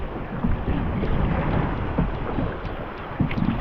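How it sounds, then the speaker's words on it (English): Kayak on a river in the Ozarks in spring, with steady rushing water, wind buffeting the microphone and occasional paddle splashes and knocks, loud and close throughout. "extreme kayaking. Going backwards now."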